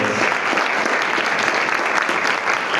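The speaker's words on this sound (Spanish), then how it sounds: "este aplauso es para ustedes y por supuesto para mi querida Inés." An audience at a cultural venue bursts into loud, sustained applause, a dense even wash of many hands clapping close by with no voices over it.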